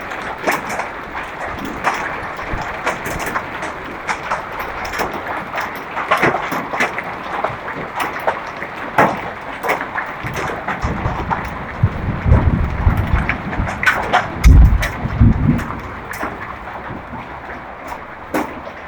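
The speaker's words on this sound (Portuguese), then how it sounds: "Olha só a chuva de pedra que tá caindo aqui." Hail pours down in Porto Alegre as a steady dense clatter of stones hitting surfaces, with heavier thuds swelling midway, and no talking.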